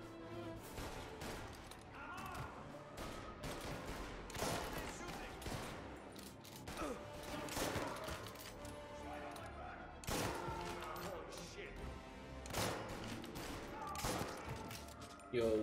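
A rifle fires repeatedly in Mafia Definitive Edition, irregular bursts of sharp, loud shots over a busy game soundscape, with a voice speaking faintly in places.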